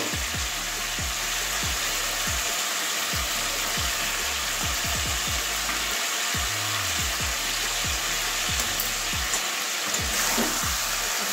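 Chicken posto curry in a Bengali home kitchen, with a continuous loud sizzle in the pan as it is fried and stirred, plus a steady low rhythmic mechanical hum throughout.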